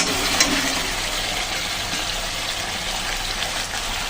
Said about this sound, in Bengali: এখন দিয়ে দিচ্ছি ভেজে রাখা ডিম আর আলু।